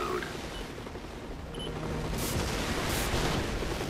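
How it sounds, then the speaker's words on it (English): Gunfire in the mech combat game Armored Core V, a dense stretch of rapid shots and bursts running continuously at a steady level under game noise. "Somebody be shooting at me."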